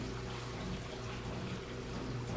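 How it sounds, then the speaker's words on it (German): A washing machine runs water in a steady, even rush like a small waterfall, with a low hum underneath. It stays constant throughout, close, and no one speaks. "Klingt fast wie ein Wasserfall. Oder mehr wie... Die Waschmaschine!"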